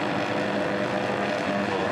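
Superbike engines rev on the starting grid at Phillip Island GP Circuit before an Australian Superbike race, a loud sustained multi-engine roar holding steady without breaks.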